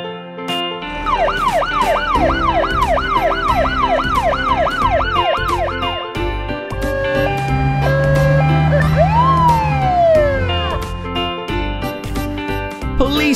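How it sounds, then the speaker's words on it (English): Toy-like fire engine siren sounding loud and close in a rapid wailing yelp, then shifting into steady two-tone hi-lo blasts and a rising-falling wail, continuous throughout with no talk. "Fire engine."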